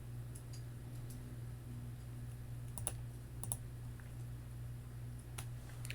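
A few faint, scattered keystrokes on a computer keyboard while entering an Excel formula, a handful of soft clicks spread over a steady background hum, with no talk.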